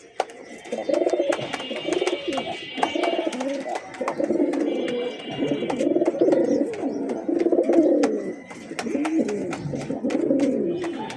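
A pair of active Himalayan pigeons coo indoors in repeated soft, throaty phrases close by, with light chirps and a faint rain-like background.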